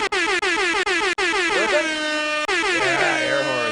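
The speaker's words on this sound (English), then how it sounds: "The Friday air horns are flowing" Loud blasts from an air horn sound effect, several short staccato honks followed by longer sustained bursts with bending, layered tones, close and alone.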